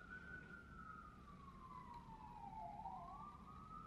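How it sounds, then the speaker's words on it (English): An ambulance siren passing in city traffic, a single faint distant wail sliding slowly down and back up in pitch over steady low road rumble. "I feel like this siren has not gone away."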